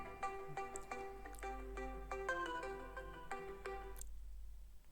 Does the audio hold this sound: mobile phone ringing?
yes